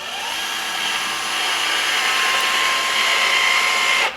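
A DEWALT 20V cordless caulking gun's motor runs at a slowed speed, giving a steady, close, whirring whine that holds for about four seconds before cutting off abruptly at the end.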